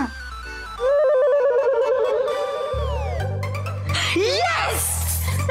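A mobile phone plays a loud, busy melodic ringtone of stepping electronic tones that later shifts into denser, brighter sounds, with a low background layer underneath.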